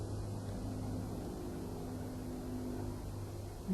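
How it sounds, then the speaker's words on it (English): A steady engine drone like a light Cessna propeller airplane, heard at night from a triangular craft circling in the sky; a continuous low hum holds at an even level throughout with no talk. "It's not a regular Cessna airplane, but it is making a sound of one."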